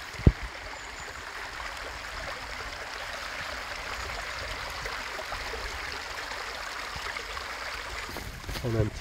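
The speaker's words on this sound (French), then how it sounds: "Et là on arrive devant un petit ruisseau." A small woodland stream flows steadily with a soft, continuous rushing and trickling, close by and even in level, with a faint knock near the start and no talk.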